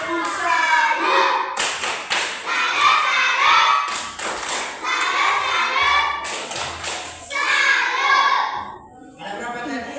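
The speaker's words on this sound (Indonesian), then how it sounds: "Tepuk salut untuk kita dulu" Schoolchildren in a classroom lesson perform the Indonesian "tepuk salut" clapping routine, sharp rhythmic claps and thumps in bursts mixed with the children chanting along.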